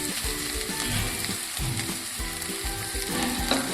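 Green garlic and curry leaf paste frying for green thepla, a steady close sizzle with rhythmic stirring scrapes in the pan, no voices.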